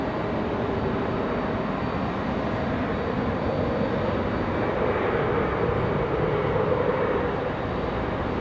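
United airliner taxiing to a hard stand at Raleigh-Durham International Airport, a steady broadband jet engine rumble and whine that holds level throughout, fairly close and loud, with no voices.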